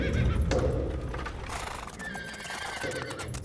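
A horse on a film set neighs and whinnies with a rising, shaky call, mixed with hoof clip-clops and shuffling nearby at moderate volume.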